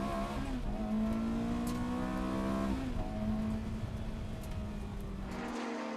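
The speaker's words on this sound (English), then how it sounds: "Ian Hartley about to rejoin the race here as he makes his way back up the pit lane." A GT race car at Snetterton rejoins the track from the pit lane, its engine droning steadily with gear changes, fairly faint and with no talk.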